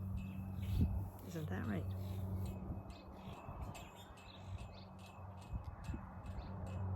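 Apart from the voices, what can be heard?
robins chirping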